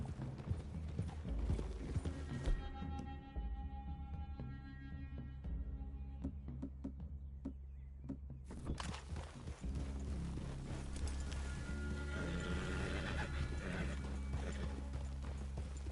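Horses whinny and snort while hooves clop steadily on the ground in Red Dead Redemption 2, with a quieter stretch of scattered hoof clicks in the middle.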